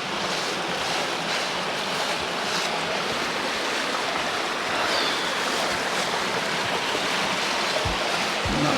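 Creek water flows steadily beside a hiking trail in Chewacla, Auburn, Alabama, a constant close rushing wash with no breaks and no voices.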